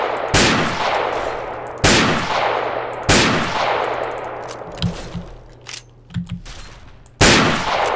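Gunfire in the video game Fallout 3 rings out as five sharp, loud metallic gunshots spaced over eight seconds, each trailing off into a ringing decay, with a few softer thuds in between.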